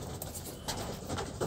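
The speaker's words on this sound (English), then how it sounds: "basically I feed my birds" Pigeons cooing in a racing pigeon loft, soft repeated coos close by over a constant hum of the birds, with no voices.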